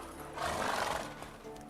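A horse in The Witcher 3 gives a single brief neigh that swells and fades over under a second, set against a steady game ambience with no speech.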